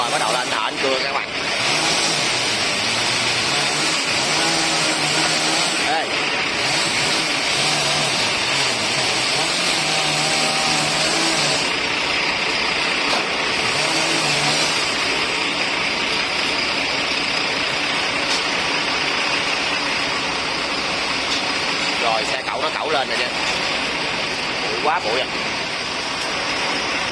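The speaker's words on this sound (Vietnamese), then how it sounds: "Rồi bắt đầu là anh thợ anh cưa các bạn." A loud, continuous high-pitched motor whine of a chainsaw cutting a branch from an eighty-year-old tree, with pitch shifts as the load changes, while a person talks over it.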